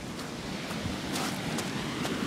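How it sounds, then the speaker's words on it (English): Waterfall churning into a foam pool after Hurricane Maria, a close, steady broadband roar of rushing water with no gaps, heard alone. "really, really, really close near the waterfall"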